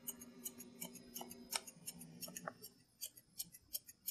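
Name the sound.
thinning shears trimming dog hair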